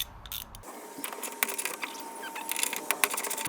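A ratchet fitted with a 12mm socket turns bolts, giving a close run of quick, crisp clicks in uneven bursts against a quiet background.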